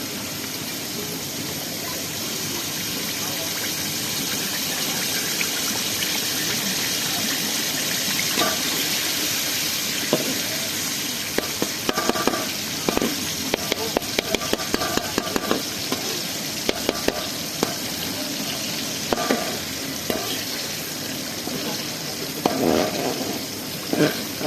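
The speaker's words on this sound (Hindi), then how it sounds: "ऑयल हमारा गर्म हो गया। अब इसमें हम अपने अंडे शामिल करेंगे।" Eggs sizzling in hot salted oil in an outdoor village-style pan, a steady crackling fry throughout with stirring and scraping clatter growing busier in the second half, no talking.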